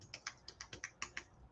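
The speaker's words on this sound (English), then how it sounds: "I'm going to type it in here." A website address is typed on a computer keyboard in about nine quick, light keystrokes, evenly paced and close but quiet, with no talking.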